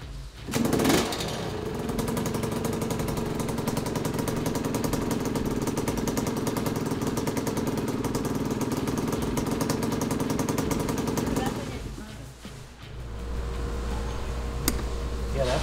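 An old dirt bike engine runs steadily with a loud, rough mid-range drone and a clattery tone, then falters and drops off near the end as if stalling, before a low rumble picks back up.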